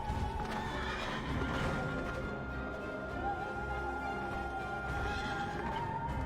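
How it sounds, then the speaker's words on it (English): A horse in the Final Fantasy XIV Endwalker game neighs and whinnies loudly, with clip-clop hoofbeats and a sustained musical tone underneath, and a second whinny near the end. "this is a weird horse"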